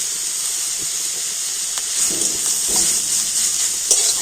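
Grated carrot fries in hot ghee over low flame, giving a steady bright sizzling hiss with a few soft stirring scrapes.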